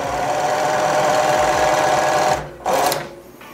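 A blind hem sewing machine runs at about 1000 stitches per minute with a fast, steady mechanical whirr and needle chatter, close and loud, pausing briefly and then resuming for a short burst.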